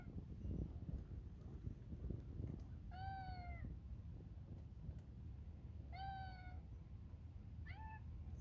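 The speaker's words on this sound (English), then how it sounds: "Silly cat." A cat outdoors beside a chicken coop gives three drawn-out meows spaced a few seconds apart, fairly close and clear over soft wind and rustling background.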